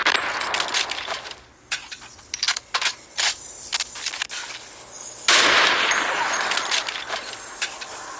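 Rapid bursts of weapon fire from a Fortnite Battle Royale match, sharp clustered shots and clicks spread through the stretch with a louder dense burst near the end.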